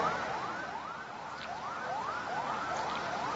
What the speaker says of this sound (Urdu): یہ سائرن کس کے لیے بج رہے ہیں؟